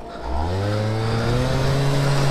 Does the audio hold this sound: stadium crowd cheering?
no